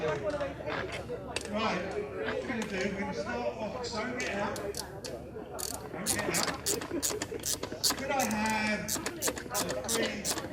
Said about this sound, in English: undo this 17mm nut on top so that I can take the gear stick off of the old pivot